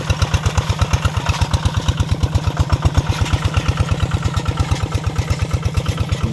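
A hand tractor engine runs while plowing a rice field, producing a loud, fast, evenly pulsing single-cylinder chug that holds a steady rhythm throughout.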